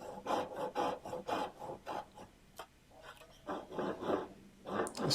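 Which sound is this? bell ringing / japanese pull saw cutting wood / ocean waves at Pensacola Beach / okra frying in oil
japanese pull saw cutting wood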